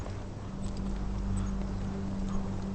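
Horses moving at a steady walk with soft clip-clop hoofbeats under a constant low rumble of ambient noise in a fantasy medieval setting.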